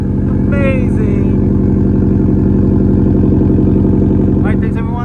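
A Subaru STI with a Remark non-resonated catback exhaust idles after a cold start, a loud, steady, deep exhaust drone holding evenly for the whole stretch.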